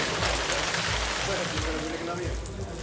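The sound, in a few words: rain falling in El Hierro's capital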